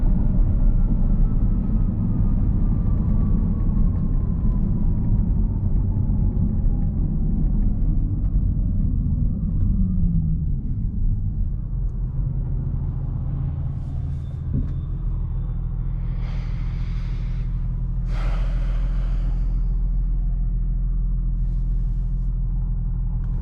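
A 2019 Audi S5 Sportback engine heard from inside the cabin, a steady low rumble with a falling pitch sweep as the car shifts gears, then a settled drone with a few faint clicks, no talk.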